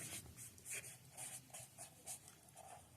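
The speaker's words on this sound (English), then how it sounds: "Let's write it down." A pen scratches soft, quick strokes as notes are written by hand during a tarot reading; the writing comes in short rhythmic bursts, faint and close, with no talking.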